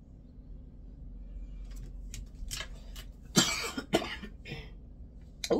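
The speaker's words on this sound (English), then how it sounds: "I don't know if it's something in here making me cough or what" A person gives several sharp, close coughs in quick bursts, some rough and throaty, set against a quiet indoor background.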